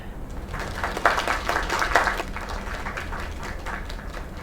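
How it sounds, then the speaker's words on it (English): Applause from a crowd in a video game, a dense patter of clapping that swells briefly then holds at a steady level, with no voices. "Another round of applause."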